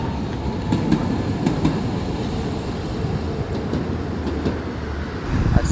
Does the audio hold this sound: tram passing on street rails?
yes